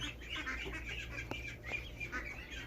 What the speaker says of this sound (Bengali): এখানে দেখতেছি হাঁসের বাচ্চা আছে